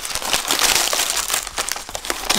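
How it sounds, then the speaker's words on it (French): Dry crinkling and ripping of tape and packaging, close up, in irregular bursts that run continuously, with no voices. "Je suis désolée, hein, je déchire."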